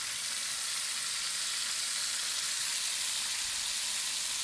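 Tomato paste sizzles and fries loudly and steadily in a pan with browned onions, a dense continuous hiss with no talking.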